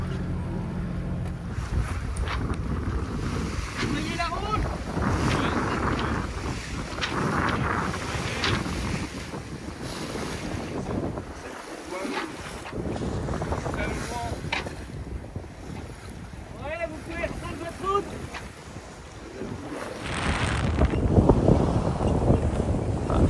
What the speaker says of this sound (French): beaucoup de vent, qui commence d'ailleurs à se monter